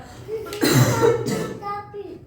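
A child's harsh cough bursts out up close, preceded and followed by brief voiced sounds.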